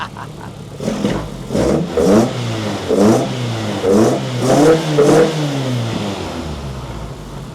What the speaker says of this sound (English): it started first time and revved and revved and revved and revved